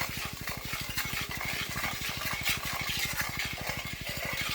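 Spice mix fries in about five or six spoons of hot oil in a wok, a steady close sizzle with a fast regular rhythmic pulsing running through the whole stretch and no talking.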